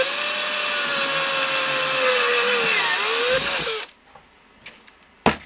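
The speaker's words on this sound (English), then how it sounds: "And then we will drill those with a 3/16 drill." A power drill fitted with a 3/16-inch bit bores two holes for a Lynx Joule lamp build, whining steadily and loud for nearly four seconds before stopping, followed by a few light knocks and handling clicks.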